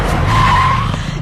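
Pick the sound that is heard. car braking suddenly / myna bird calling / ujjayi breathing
car braking suddenly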